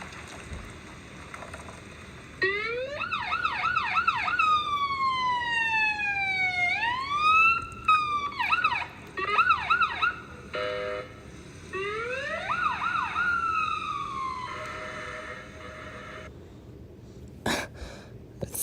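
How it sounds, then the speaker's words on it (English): Medic ambulance backing out with its siren cycling through wail, yelp and hi-lo patterns, loud and close, pausing briefly between bursts. "Had a medic one ambulance right in front of him. Backing out and playing sirens and whatnot."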